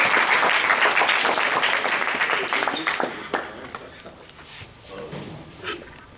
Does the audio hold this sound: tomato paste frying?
no